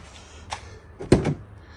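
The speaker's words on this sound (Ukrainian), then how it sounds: "ця дверка не закрилася, ця дверка закрилася" Doors of an Opel Zafira B with faulty locks shut with a couple of muted thuds, a light knock followed by a firmer close, in a quiet outdoor setting.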